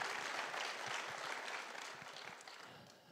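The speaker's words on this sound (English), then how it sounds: "go ahead and applaud. This is good stuff to applaud." An audience at a religious talk breaks into applause, a dense wash of clapping from many hands that gradually thins and fades.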